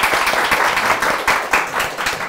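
A studio audience claps steadily throughout a quiz show, a dense burst of applause with no talking.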